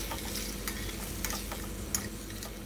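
Crushed tomato being mixed into sizzling whole gunda sabzi cooked in moderate oil in a pan, a dense steady fry with a few spoon scrapes and clicks, close and wordless.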